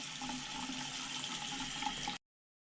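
Tap water runs steadily while makeup brushes are washed, a close, even rushing stream that stops abruptly near the end.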